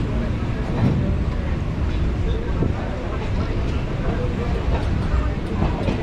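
A local train pulling into Magrahat station on the Sealdah line gives a steady, loud rumble and rattle with broadband wind buffeting throughout, with no clear pauses or distinct clanks.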